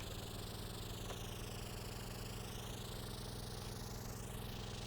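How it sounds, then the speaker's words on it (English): Electric boat engine running in the video game Stormworks: a steady, dense mechanical hum with whining tones that slowly bend in pitch, continuous and fairly loud with no voices. "Yeah, electric engine does work."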